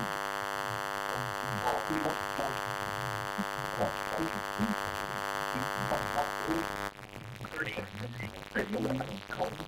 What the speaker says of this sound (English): The warning alarm tone and the emergency alert system have just been activated.